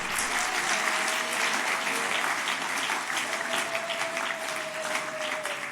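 A church congregation at a Sunday service claps together in sustained, dense applause that fills the room evenly for several seconds, with no voices standing out.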